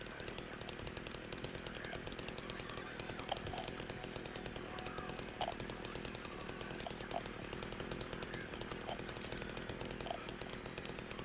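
Chainsaw in the video game Silent Hill 2 keeps up a steady, continuous buzzing drone throughout, fairly quiet and even in level, with faint intermittent background sounds.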